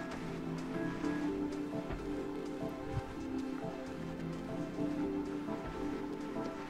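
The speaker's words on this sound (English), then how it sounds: "I'll just rinse the muslin cloth and give it another once over." A muslin cloth is rinsed under running water, a steady splashing, pattering stream close by that continues evenly throughout without any speech.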